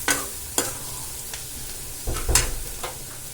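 Ingredients for egg rice sauté in a pan, giving a continuous low sizzle broken by a few sharp scrapes and knocks of a stirring spoon, close and moderately loud with no talking.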